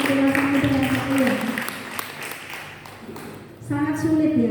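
Applause from a young adult congregation at a Saturday Christmas worship service, dense clapping filling the room, with a held musical tone and voices underneath, fading midway then swelling again.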